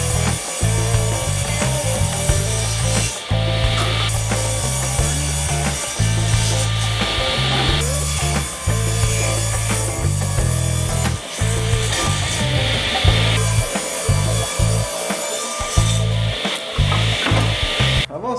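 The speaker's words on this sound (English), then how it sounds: "I've got my fence set a little less than 2 inches away from the blade so I can start cutting my top" A table saw rips white oak boards into strips, with a loud, steady motor whine and cutting roar broken by short dips between passes, continuous and close with no talking.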